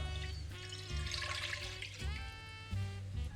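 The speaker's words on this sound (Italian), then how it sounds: "In una casseruola versiamo l'acqua." Water pours into a saucepan in a steady, gurgling stream that swells and eases a few times, heard faintly beneath soft background music.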